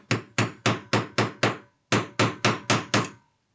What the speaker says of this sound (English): and just hammer it into place